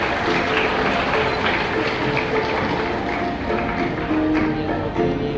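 Students clap together at a school Independence Day celebration, a continuous, fairly loud spatter of many hands with a faint tonal hum underneath.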